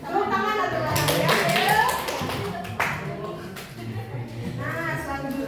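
Clapping breaks out in a classroom during a microteaching lesson, a few quick rounds of hand claps and taps mixed in with ongoing children's and teacher's voices.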